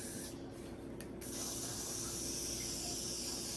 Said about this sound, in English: We're gonna spray it.